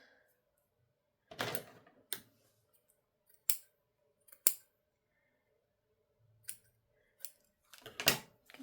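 Scissors trimming paper or card at a craft desk, a series of distinct close snips spaced irregularly with quiet gaps between, no talking.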